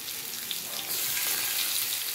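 Garlic sizzles in a hot pan, a close, steady frying hiss that swells louder partway through as it cooks, with no talking over it.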